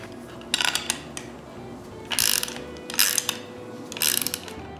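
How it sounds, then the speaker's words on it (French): A threaded rod being screwed into the top of a walnut and oak wooden lamp gives four short bursts of metallic ratcheting and grinding, separated by quiet gaps, up close with no talking. "Je visse un bout de tige filetée au haut de la lampe."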